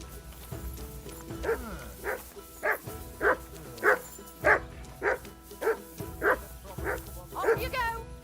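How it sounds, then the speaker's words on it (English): A dog barks repeatedly in Kingdom Come: Deliverance II, about ten evenly spaced woofs close by, over a low ambient bed. "Call back that dog, or I'll report you."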